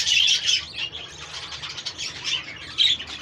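Exhibition budgies in a breeding room chatter in a dense, continuous flock, with bright warbles and squawks overlapping close by and no voices.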